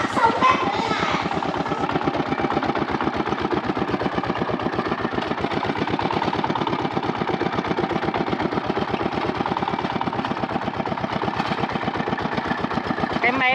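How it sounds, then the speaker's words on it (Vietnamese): A small tractor engine ploughs a dry rice field, chugging in a steady, fast, even rhythm close by throughout. "đây là em đang cày cái ruộng này là ruộng cạn nên là mình có thể cày được sâu"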